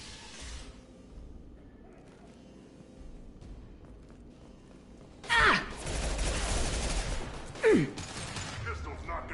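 Gunfire in the video game Mass Effect 2, a couple of sharp loud bursts rising suddenly out of a quiet low ambience, followed by sustained noisy combat clatter.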